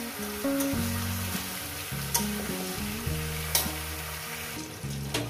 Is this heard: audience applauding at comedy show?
no